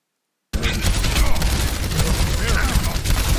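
Rapid gunfire from the shooter game Overwatch on Ilios, a dense continuous burst of shots that starts abruptly after half a second of silence, loud and close with faint voices mixed in.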